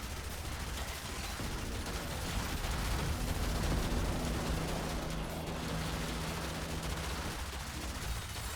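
A loud, sustained rumbling blast roars in a zombie survival video game, with dense crackling and booming filling the whole stretch and no talk.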